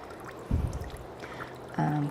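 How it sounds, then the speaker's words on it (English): Water drains and drips from fresh paper pulp in a deckle box held at an angle, with a few soft splashes and trickles at a moderate distance over a quiet background. "This still needs to drain just a little bit, so it's just dripping from, I'm just holding it up at an angle."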